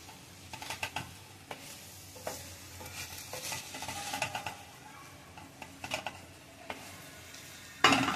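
Vermicelli being sautéed in a pan for shevaya upma, with a soft continuous sizzle broken by repeated scraping strokes of a spoon against the pan, close and moderately loud.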